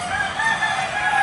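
Chickens call and crow in a shed, overlapping fowl voices over a constant background of clucking and murmuring.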